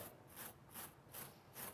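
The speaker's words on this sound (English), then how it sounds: "Then you get your brush and you rub it in." A stiff brush scrubs cleaning product into carpet fibers in four steady, rhythmic strokes, a close, raspy swishing with no voices.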